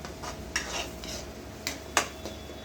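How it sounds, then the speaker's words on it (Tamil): Tomatoes being sautéed in a pan for a Tamil-style potato fry in a home kitchen, heard as quiet clinks and scrapes of a spoon against the pan with a few sharper knocks and only a faint sizzle. "இது உருளைக்கிழங்குக்கு தான் தக்காளி வதக்கிட்டு இருக்கேன்"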